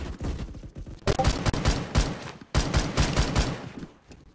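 Video-game gunfire rattles in rapid bursts, a dense fusillade of shots starting softer, then swelling into two loud, sustained volleys separated by a brief gap.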